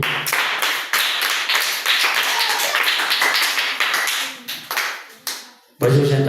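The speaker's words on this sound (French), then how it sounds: "Acclamez très fort pour lui." A church audience applauds a young talent called up front at a holiness youth event in Mbuji-Mayi, a dense, steady clapping that thins and fades near the end before a voice and music return abruptly.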